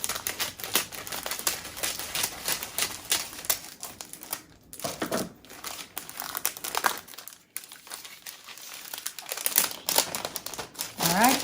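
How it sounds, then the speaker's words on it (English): A plastic bag is cut and peeled off a framed pastel painting, giving close crinkling and rustling in irregular bursts while a person talks throughout. "you can literally just cut the bag off of it"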